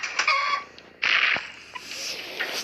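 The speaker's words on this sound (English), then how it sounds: "Feed those freaking chickens." Chickens cluck and squawk in short bursts in the video game Bomb Chicken, close and fairly loud with brief pauses.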